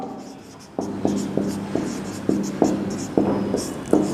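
Chalk tapping and scraping on a board as a teacher writes during a class, a series of sharp strokes roughly every half second, close and clear with no talking.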